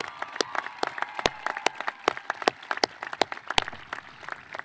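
Crowd applause at a Grafton High School graduation ceremony in Grafton, Wisconsin, a steady wash of many hands clapping with sharp individual claps standing out, loud and sustained throughout.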